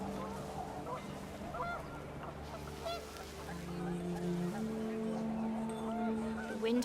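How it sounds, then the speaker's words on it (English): Panicked geese honk in What Remains of Edith Finch as wind picks up, with several short nasal honks in quick succession over a sustained tonal background. "The wind picked up and panicked geese appeared and quickly went."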